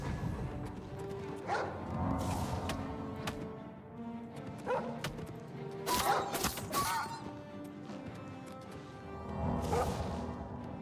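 A hostile dog in Oblivion Remastered barks several times in short bursts, with combat whooshes and hits mixed in, moderately loud over game ambience.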